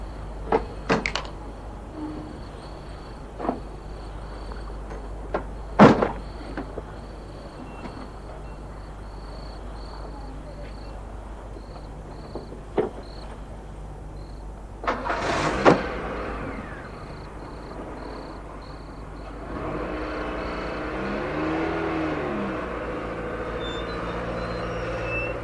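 A car door thumps shut among a few other clicks and knocks before an engine starts and a car rumbles and pulls away, building a steady drone toward the end.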